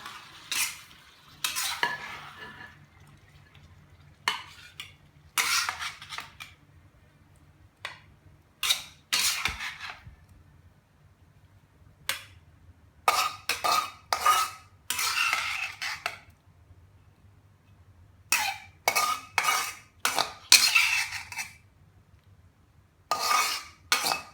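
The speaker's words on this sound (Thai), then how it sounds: "ต่อไปเราก็ตักใส่จานได้เลยนะคะ" A metal spatula repeatedly scrapes and clanks against a pan and plate while stir-fried squid with homegrown holy basil is scooped out, in short irregular bursts separated by quiet pauses, close and fairly crisp.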